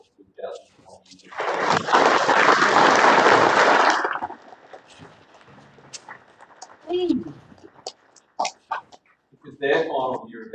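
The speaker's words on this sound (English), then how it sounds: "give a round of applause to our graduating cohort of 2020" An audience gives a loud round of applause for the graduating cohort of 2020 at a school presentation afternoon, a dense burst of clapping lasting about four seconds before it fades into scattered voices and quiet room noise.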